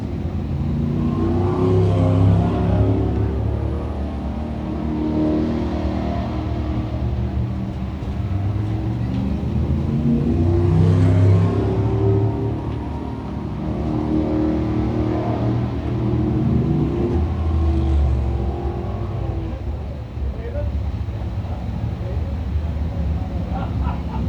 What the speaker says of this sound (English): Panther Frameworks Crate Sprint Cars ready to come out next